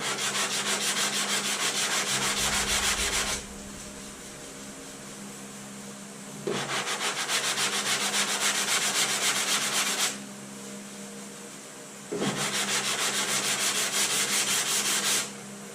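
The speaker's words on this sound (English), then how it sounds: "you're sanding through and you're taking all your material off" Body filler on a car panel being smoothed with a hand sanding block, three long steady rasping strokes of several seconds each, separated by brief quiet pauses, close and even in loudness.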